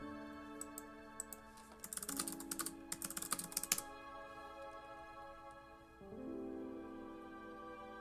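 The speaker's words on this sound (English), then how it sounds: "I'm literally typing in the answers" Keys on a computer keyboard clatter in quick irregular bursts, busiest in the middle stretch and then fading out, close and fairly soft over a steady low hum.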